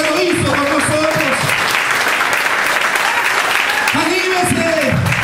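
A church congregation claps steadily throughout, a dense, continuous round of applause with a voice preaching loudly over it.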